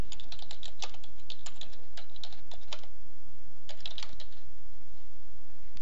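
Bursts of typing on a computer keyboard, close and distinct clicking keystrokes in irregular clusters with short pauses, entering a line of text into a receipt-printing field of a library workflows program; no voices.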